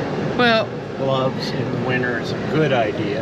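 A steady, airy fan whir runs throughout inside a Newmar Canyon Star motorhome, sitting beneath a person speaking close by.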